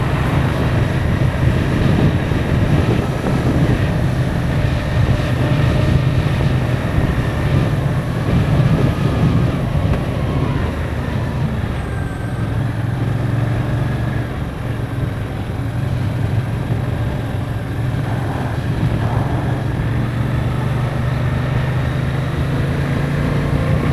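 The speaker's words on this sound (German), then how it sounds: "denn es wird zu windig." Steady, loud wind roar while riding a new motorcycle in sixth gear below 50 km/h, with a low engine drone underneath and continuous buffeting throughout, no talking.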